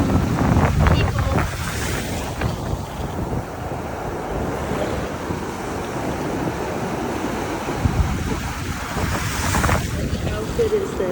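Ocean waves break and wash on the shore in a continuous, rolling surf with wind, rising in larger surges near the start and again toward the end, fairly close and steady.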